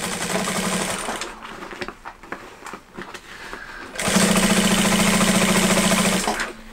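A sewing machine stitches a seam along the edge of a trapezoid toiletry bag, running in two steady close-up bursts separated by a short pause with light handling noise. No one speaks.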